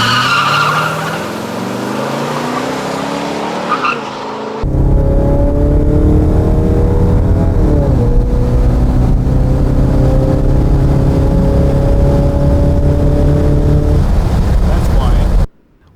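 Stock Chevy muscle car with an LS6 V8 launching down a drag strip, a loud engine roar rising through the gears with tire noise and steady full-throttle drone, a voice briefly over the start.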